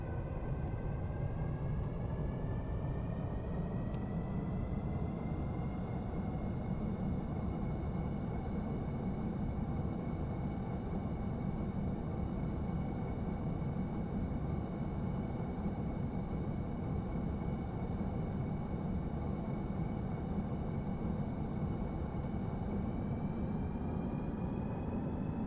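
Aircraft engines in Stormworks idle before takeoff with a steady, loud broadband roar and a slowly rising whine, continuous and unbroken throughout.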